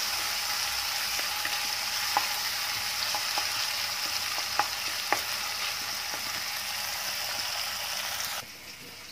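Tomatoes sauté in a pan for shrimp and mung bean soup, a steady close sizzle broken by scattered clicks of stirring, until the hiss drops away sharply near the end.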